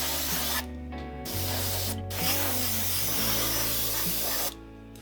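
Small pressure-washer-like spray, likely an airbrush or sprayer used on a model bridge façade, hissing steadily with short pauses and a low compressor hum beneath.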